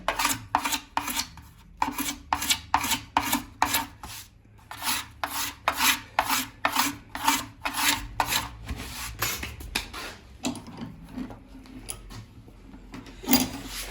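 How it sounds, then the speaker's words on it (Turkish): Steady back-and-forth rasping of sandpaper on a wooden door, close and rhythmic, with quick strokes continuing for the whole stretch. "Her tarafını bu şekilde temizleyeceğiz ve zımpara yapacağız bunu komple."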